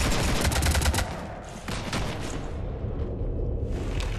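Rapid sustained gunfire strafing a ship in Mass Effect 3, loud dense automatic bursts at first that thin out into intermittent shots and rumbling impacts, with no talk over it.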